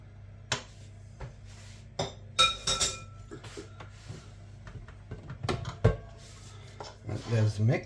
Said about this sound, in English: Using the spatula, just scrape everything clean.